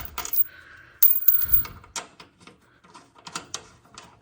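A metal washer is worked off a bolt on a 1953 Chevy Bel Air air-ride build. Sharp little clinks and scrapes come in several close, irregular bursts with short quiet gaps between them.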